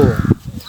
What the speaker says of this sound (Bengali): উই দেখো গাছে কাক বড়